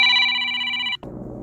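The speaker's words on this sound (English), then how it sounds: "when the phone rings, my camera shuts off because it is the camera" A telephone bell rings steadily and close by for about a second, its bright repeating trill cut off abruptly, leaving a soft room hum.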